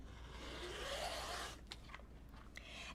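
Rotary cutter slicing through quilting fabric pieces on a cutting mat, a soft continuous scraping swipe followed by a few short scratchy clicks, close and quiet.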